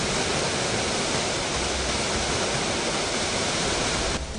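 A waterfall on the Matez river near Jos, heard as a steady, loud, dense roar of falling water that fills the whole stretch with no voices.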